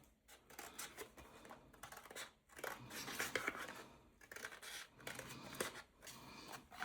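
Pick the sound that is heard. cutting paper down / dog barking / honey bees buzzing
cutting paper down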